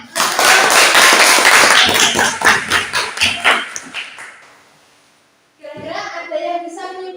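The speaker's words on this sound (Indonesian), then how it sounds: "beri tepuk tangan." A group claps hands in a classroom, loud and dense at first, then thinning into scattered claps that fade out, followed by a voice speaking after a short pause.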